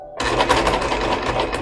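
A sewing machine stitches fabric for a cosplay costume, starting abruptly into a fast, steady mechanical whir with rapid rhythmic needle clatter, close and alone.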